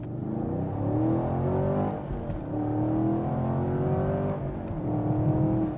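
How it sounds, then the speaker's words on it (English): A 2016 Chevrolet Camaro SS V8 engine revving up and down repeatedly through a dual-mode exhaust, deep and rumbling, loud and close with rising and falling pitch. "it allows that Corvette engine to make fantastic noises, such as this."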